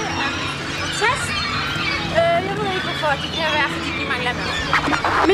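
Noisy birds outdoors in Nørrebro, Copenhagen, in December, a steady chorus of calls and chirps under continuous nearby talk and street bustle.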